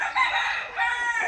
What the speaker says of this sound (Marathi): आणि या आहेत कोंबड्या.